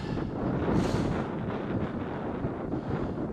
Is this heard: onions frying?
no